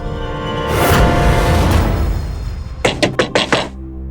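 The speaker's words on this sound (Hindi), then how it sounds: "शीतल, शीतल, शीतल, दरवाजा खोलो।" Knocking on a door, a quick burst of about five sharp raps near the end, preceded by a louder rushing, clattering sound.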